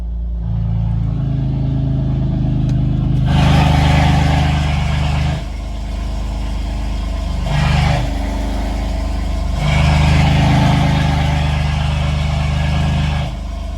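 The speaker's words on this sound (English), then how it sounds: "I want you guys to hear the difference when I open up the valves." Revving a BMW M4 with its exhaust valves open gives three loud, close bursts that rise over a steady idle, with no talking.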